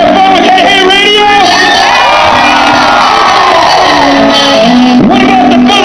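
A concert crowd cheers, shouts and whoops loudly and continuously at a rock show in Italy, with voices rising and falling through the roar.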